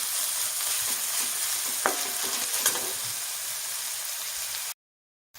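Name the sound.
onions frying and being stirred in a pan for misal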